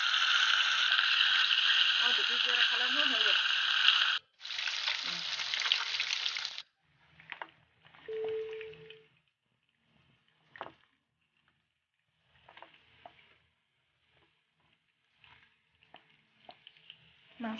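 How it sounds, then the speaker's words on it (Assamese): Katla fish pieces dropped into hot oil in a kadai for an Assamese mustard fish curry: a loud, steady sizzle for several seconds, briefly broken, then fading to faint scattered crackles, with a voice speaking nearby. "এয়া তেল গৰম হোৱাত মই মাছ কেইপিচ দি দিম।"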